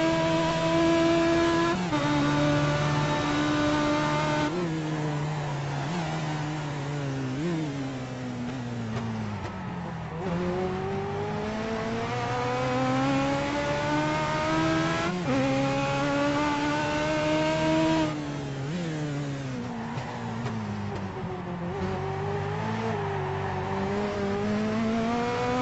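Onboard a race car with a roughly 1200cc Yamaha engine and sequential gearbox: loud, continuous engine drone rising in pitch through the gears, with sudden drops at each upshift and repeated climbs over a full lap.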